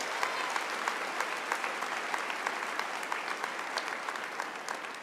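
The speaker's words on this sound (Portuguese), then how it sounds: "Pode aplaudir, pode aplaudir." A church congregation claps steadily and enthusiastically during a sermon, dense applause filling a large room without pause.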